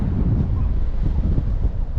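Strong offshore wind buffets a microphone on a remote Northumberland beach, a dense, low, continuous rumble with gusting swells and no talking.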